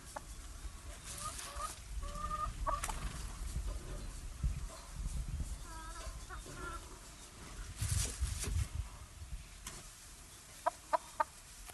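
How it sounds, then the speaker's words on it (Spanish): Hens clucking around a farmyard coop, repeated short clucks and cackles at moderate distance over a noisy background, with a few sharp knocks near the end. "Están peladas las gallinas."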